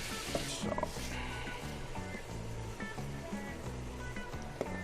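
Ground beef sizzles in a hot pan during empanada cooking, a steady quiet crackle and hiss with occasional scraping stirs, heard alone without talk.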